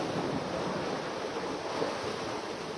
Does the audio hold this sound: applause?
no